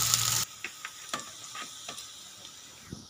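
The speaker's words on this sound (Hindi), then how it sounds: "इसके लिए सबसे पहले घी के अंदर प्याज डालेंगे। इसको थोड़ा सा फ्राई करें।" Onions sizzle and fry in hot ghee in a pan, a steady hiss with a loud opening burst, then softer crackling and occasional stirring clicks and pops.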